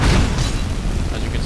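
A fire destruction spell from the game Skyrim, running with visual mods, gives a steady, loud, roaring low rumble with booming bursts, crackling throughout the short stretch without any clear break.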